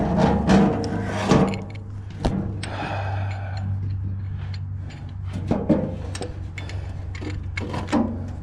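A wrench works on a bolt under the hood of a car, giving close ratcheting clicks and metallic clunks in an irregular rhythm with brief pauses and no voices.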